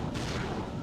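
A blitz cannon fires in Ratchet and Clank: Going Commando, a single heavy booming blast that fills the short moment, loud and close with a rumbling tail.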